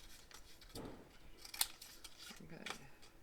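Scissors snipping paper while assembling a scrap album cover, a few brief crisp cuts spaced apart at close range, faint against quiet room tone.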